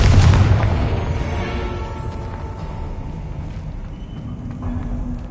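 A Confringo fire spell explodes in Hogwarts Legacy, with a loud booming blast at the start that rolls off into a long fading rumble with faint scattered game sounds.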